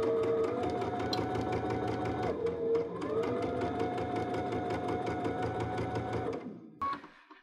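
A sewing machine runs steadily, stitching dress lining pieces together in one continuous whirring run with a brief slowdown partway, then stops near the end, followed by a short rattle.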